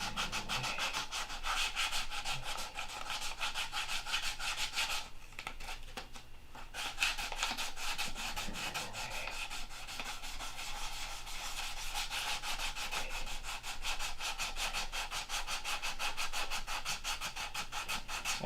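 Hand sanding on wood, a continuous rough rasping scrub in steady rapid back-and-forth strokes, loud and close, with a brief lull partway before resuming unbroken.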